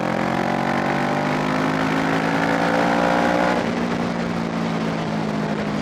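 A 650R two-cylinder motorcycle pulls hard at full throttle, its engine note climbing steadily for several seconds before shifting and settling into a lower drone, loud and close with no talk.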